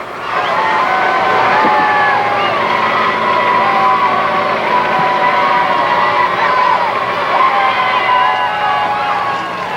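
A Bacchus Mardi Gras parade crowd cheers and shouts for thrown beads as floats pass, a loud, continuous roar of many voices with a siren-like tone running through it.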